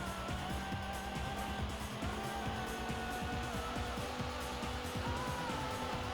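Cars race in Daytona USA on the Sega Saturn, engines droning and whining through gear changes and rising pitch, with other cars' engines layered around at a steady, moderate level.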